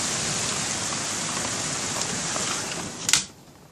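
Heavy rain with hail pours down during a thunderstorm as a dense, steady hiss, close and loud, broken near the end by a sharp impact before the roar drops off.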